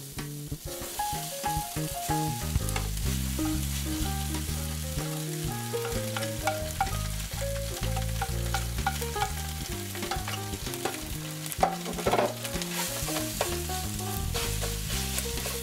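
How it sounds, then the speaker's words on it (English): Italian sausage meat sizzles and crackles in a hot pan, steady and close, as it is stirred and broken apart. Music plays throughout in the background. "Once the pan is hot, we'll grab the plate of sausages and dump it in the pan."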